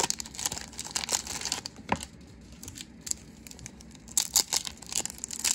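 Foil wrappers of 1992 Fleer baseball card packs crinkle and tear open up close, with repeated sharp rips and crackles in irregular bursts, no voices.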